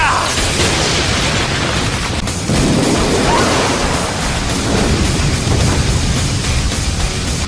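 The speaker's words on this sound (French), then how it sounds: "Katon, technique suprême de la boule de feu" A Katon fireball technique explosion in a Naruto anime fight between Sasuke and Itachi: a loud, sustained roaring blast of rushing fire that fills the whole stretch, swelling briefly midway.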